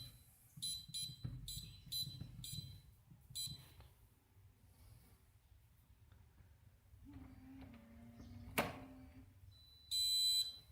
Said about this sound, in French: Toujours pareil, le bip de confirmation.